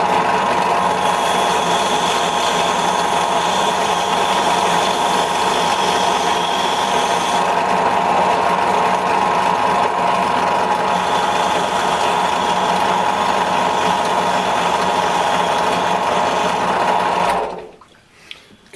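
A vacuum motor runs close by with a constant whirring hum while cleaning a fishing lure's hook hangers, then shuts off abruptly near the end.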